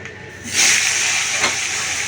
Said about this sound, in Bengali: একটু কালো জিরে ফোড়ন দেবো